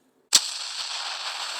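An explosion sound effect: a sudden sharp blast after brief silence, followed by a sustained loud hissing, rumbling tail that continues steadily to the end.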